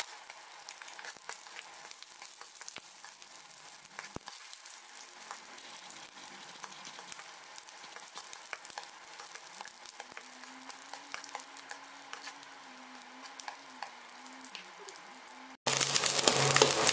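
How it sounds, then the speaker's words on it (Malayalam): Ginger, garlic and shallots sauté in a pan for a curry, a steady close sizzle with occasional clicks of stirring, ending in a louder burst of frying noise. "എന്നിട്ട് എല്ലാം നന്നായിട്ട് ഒന്ന് ചെറുതായിട്ടൊരു പച്ചക്കുത്തൊക്കെ ഒന്ന് പോകുന്ന വരെ നമുക്കൊന്ന് വഴറ്റി കൊടുക്കാം"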